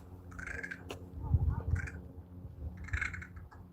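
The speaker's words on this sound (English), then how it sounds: "There's a crow or something." A crow calling outdoors with an odd, unusual-sounding voice, several short raspy caws spread across the moment, fairly distant, over low background rumble.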